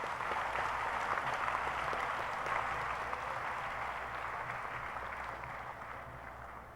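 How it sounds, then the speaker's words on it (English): A graduation audience at a university commencement applauds to welcome the Prime Minister of St. Vincent and the Grenadines, a steady, fairly distant wash of clapping that slowly tapers off. "let us join our hands in applause and welcome to the Prime"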